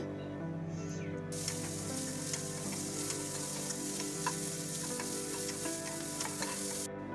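Fenugreek seeds spluttering in hot coconut oil, a continuous crackling sizzle with scattered sharp pops that swells in after a quiet opening second and runs steadily, close and without talk.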